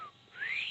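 A person whistles to imitate a noise like a child's little toy flute, giving a faint, brief, high whistle that dips and then slides upward.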